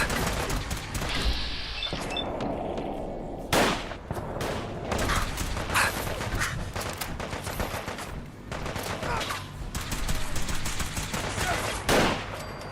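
Pipe pistols fire in a Fallout 4 gunfight, sharp shots and bursts cracking out at irregular intervals, some close and loud, layered with clattering combat noise.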